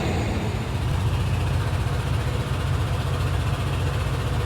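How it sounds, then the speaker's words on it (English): A diesel truck leaking fuel pulls away with a steady, heavy low engine rumble that stays loud and continuous throughout, with no voices heard. "Listen to that truck."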